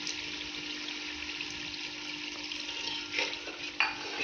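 Tomato masala paste sizzles faintly in a pan while a spoon stirs it, giving a soft continuous hiss with a couple of scraping knocks near the end; no talking.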